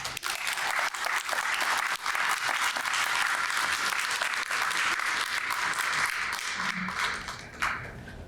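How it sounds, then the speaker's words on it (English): A large graduation audience at Seven Generations Education Institute in Kenora applauds in a sustained, dense roar of clapping that stays loud throughout before easing slightly at the end. "I think you guys deserve a huge round of applause as well."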